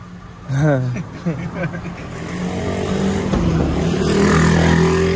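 A car rolls up and its engine builds into a rising, sustained rev that grows louder toward the end, while people talk over the start of the approach.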